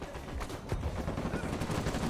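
Rapid gunfire rattles in an Uncharted 4 multiplayer firefight, with dense, overlapping automatic shots and booms crowding together in a loud, continuous volley.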